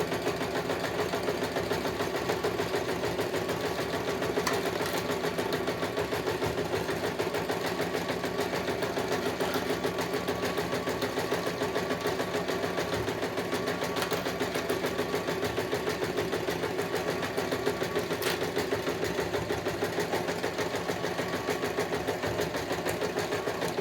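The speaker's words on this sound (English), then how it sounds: "you can leave your needle in, pull your presser foot up and help you get around that corner" A sewing machine runs continuously while stitching a quilted hot water bottle cover, a close, even mechanical whir with a rapid steady needle rhythm and no talk.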